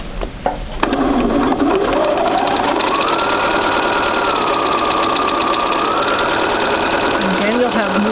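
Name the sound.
sewing machine sewing fabric pieces along marked line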